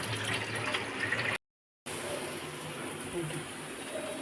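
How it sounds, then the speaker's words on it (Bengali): Tap water runs steadily into a sink while raw meat is washed by hand, a constant splashing hiss cut by a brief silence, then continuing. "এই যে মাংসটা আমি ধুচ্ছি, ভালো করে ধুয়ে নিই"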